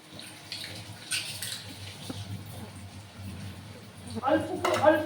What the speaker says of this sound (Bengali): অল্প একটু জল দিয়ে দিলাম